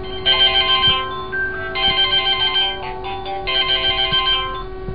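A telephone ringing in three repeated electronic bursts of warbling tones, clear and close, over a low steady hum and no speech.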